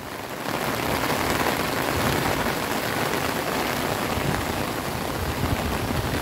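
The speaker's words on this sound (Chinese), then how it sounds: "瀑布四个角落都有" Steady, loud broadband rush of water pouring from artificial waterfalls at the corners of a site in Tainan during heavy rain, continuous and close with no voices.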